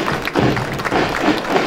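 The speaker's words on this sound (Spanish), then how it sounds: "También recibe el aplauso de todos los presentes." An outdoor crowd applauds the best students at a 2023 school parade in Santa Rita, a brief, dense patter of clapping at moderate loudness.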